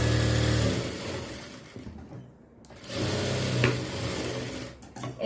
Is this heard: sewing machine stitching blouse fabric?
yes